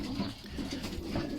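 Pigeons in a breeding loft coo softly, low and muffled beneath a steady hum of background noise.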